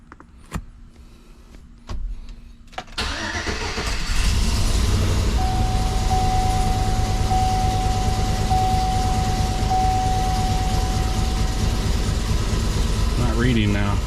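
A freshly installed 5.3 V8 with its DOD and VVT deleted cranks after a few clicks, then starts and runs at a steady, loud rumble with an uneven misfire beat. A high whine holds through the middle.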